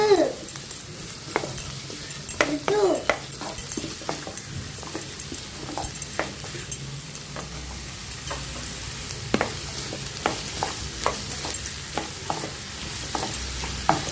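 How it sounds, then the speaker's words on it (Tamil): Capsicum and other vegetables stir-fried in a pan for a bread sandwich, with soft sizzling and repeated spatula scrapes and taps in an uneven rhythm close by. "கேப்சிகம் கொஞ்ச நேரம் வதங்கினதுக்கு அப்புறம் மற்ற காயை போடுங்க"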